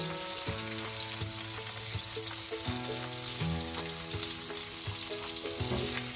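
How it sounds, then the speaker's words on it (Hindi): Onion sautéing in butter and olive oil in a pan makes a strong, continuous sizzle with faint crackles. Steady tones hum underneath it throughout. "प्याज को थोड़ा सा सौते करेंगे 2-3 मिनट के लिए"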